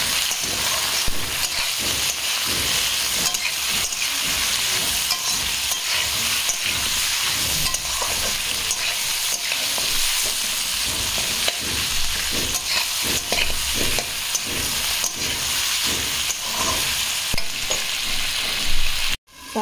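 Meat and chopped onion fry in a pan with a steady, close sizzle, broken by frequent scraping stir strokes, with no one talking.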